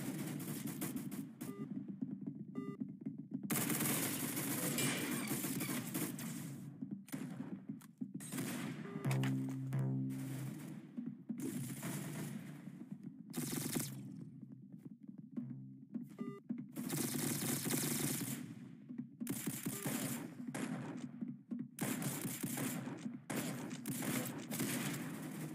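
Gunfire in the Roblox shooter game Arsenal, with rapid automatic bursts and repeated shots in a busy, continuous stream of game sound.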